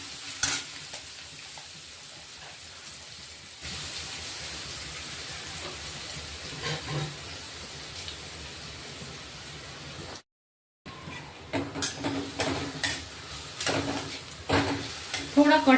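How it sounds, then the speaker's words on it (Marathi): Finely chopped onion sautéing in hot oil for a peanut amti, a steady sizzle with stirring scrapes throughout and a brief gap before louder stirring resumes. "कांदा घेतलाय, बारीक करून घेतलाय चॉपरला. चांगला परतून घ्यायचा आता आपण तेला."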